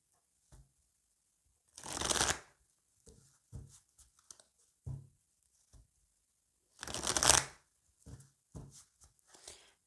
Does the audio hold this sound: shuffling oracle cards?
yes